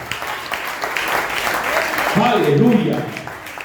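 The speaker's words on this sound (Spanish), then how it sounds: "Dale un aplauso a Dios." Congregation applauding during a church service, a broad wash of clapping building over a couple of seconds and swelling toward the end, with a preacher's voice speaking over it.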